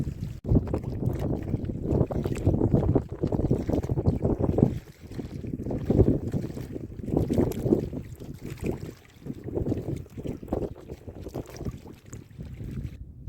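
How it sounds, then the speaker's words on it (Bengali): Low rumbling motion of a fishing boat setting off on a river in the Sundarbans, with buffeting wind noise, continuous and close, no talking. "আমাদের নৌকা রেডি হয়ে গেছে আমরা এখন বেরোবো"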